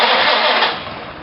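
A 1953 Massey Harris Pony tractor's small engine cranks and catches, a loud close raspy roar that eases back toward idle within a second.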